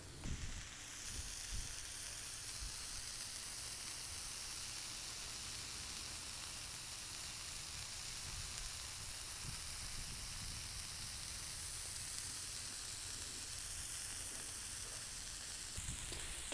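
Bacon jalapeno burger patties sizzle on a Blackstone griddle over medium heat, a dense, steady crackling hiss that continues evenly, close and loud, with no talking.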